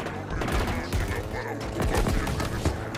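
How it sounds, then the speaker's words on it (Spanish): Rapid bursts of gunfire from the Halo Infinite video game crackle continuously, the shots sounding somewhat distant and layered into a dense fusillade with no clear gaps. "No sé por qué escuché como si fueran más lejos los disparos en vez de ser directo al costado."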